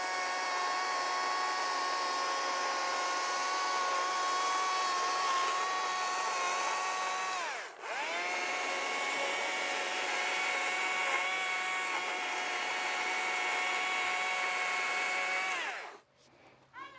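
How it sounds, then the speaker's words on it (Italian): A chainsaw carving wood runs loud and steady for about sixteen seconds, dipping briefly once midway, its high whine holding constant before cutting off. "quindi sempre motosega inclinata."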